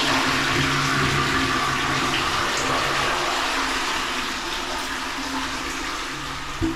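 A bidet in a typhoon-proof apartment sprays water at strong pressure, giving a loud, steady hiss and rush that continues unbroken and close up, easing slightly toward the end with no one speaking.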